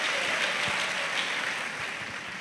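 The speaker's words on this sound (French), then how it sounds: "Let's clap for Jesus." A church congregation claps for Jesus in dense, steady applause, loud and close, with no speech over it.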